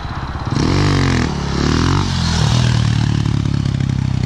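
A motorcycle engine revs and accelerates while rolling to lift into a wheelie, rising then dipping in pitch with a second surge, loud and close, with some clattering.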